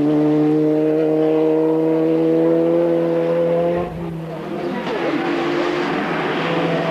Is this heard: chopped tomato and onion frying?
no